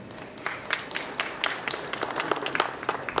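An audience at a startup conference talk claps in scattered, uneven applause: many separate hand claps at moderate loudness, filling a room for a few seconds with no voices.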